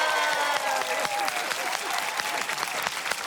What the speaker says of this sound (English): Everyone, big round of applause for the gorgeous Morag.